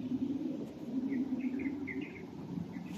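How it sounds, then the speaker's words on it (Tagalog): Faint, brief bird chirps in a flower garden, scattered over a steady low background hum, distant and soft, with no voices. "may mga huni ng ibon"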